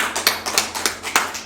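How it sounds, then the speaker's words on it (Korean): Applause from a church congregation during a service, a steady stream of many hands clapping close by with no talking over it. "우리 주님께 영광의 박수 올립니다"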